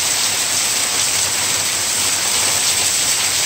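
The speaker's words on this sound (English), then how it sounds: "Raindrops falling on my head." A rainstorm on Koh Samui pours down in a dense, continuous hiss of heavy rain, loud and close, with no voices over it.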